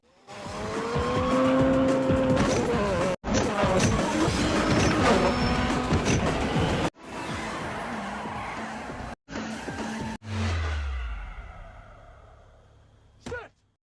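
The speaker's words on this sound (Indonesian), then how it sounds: "seorang pria yang sedang berlatih menggunakan mobil balap" A race car in a Fast and Furious film roars through loud bursts of revving engine and tire squeal, cut into several abrupt segments that end with a fading pass.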